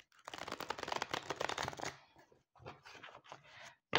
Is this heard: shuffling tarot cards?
yes